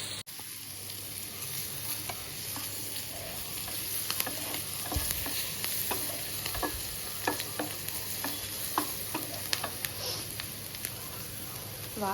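Food sizzles steadily in melted butter in a pan while a utensil stirs and scrapes through it, with soft irregular clicks over a constant hiss and a low background hum.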